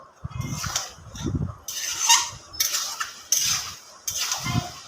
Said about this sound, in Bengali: এবার আমি মশলা দিয়ে মাংসটাকে ভালোভাবে ভালোভাবে কষিয়ে নেব